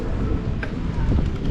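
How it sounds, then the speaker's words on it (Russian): Wind on a Crimean seafront on a stormy day in April, buffeting the microphone as a steady low rush with gusty swells. "Ну тут, как всегда, ветер на набережной."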